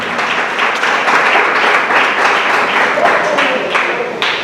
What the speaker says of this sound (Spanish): damos aplausos como iglesia en este lugar a Dios que vive y permanece para siempre.